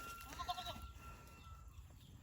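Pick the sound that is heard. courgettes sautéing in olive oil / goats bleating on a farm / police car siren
goats bleating on a farm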